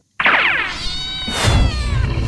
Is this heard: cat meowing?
yes